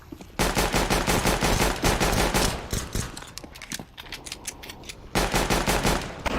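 Rapid automatic gunfire in the video game CS:GO, loud sustained bursts that break off briefly near the middle, then resume hard at the end, with no talking over them.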